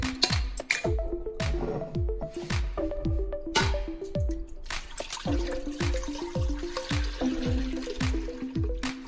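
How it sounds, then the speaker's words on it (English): A gallon of goat milk is poured into a pot on a kitchen stove, giving a steady run of close, rhythmic glugging and splashing surges that continue for several seconds with no talking. "So first I'm going to start by pouring in my gallon of milk."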